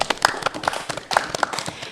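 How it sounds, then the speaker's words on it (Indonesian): Scattered hand claps from a campus event audience, uneven and overlapping in a brief burst, with voices mixed in faintly. "Tepuk tangan dulu dong."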